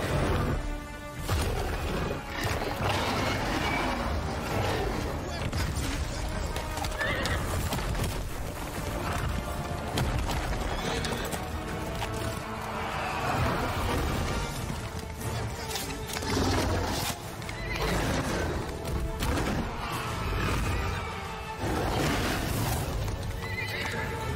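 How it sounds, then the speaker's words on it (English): A horse whinnies and neighs repeatedly over rhythmic clip-clopping hooves in a game trailer, loud and close, layered with music and effects, with no talk over it. "Horse."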